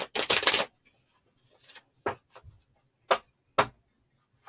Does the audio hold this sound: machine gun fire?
no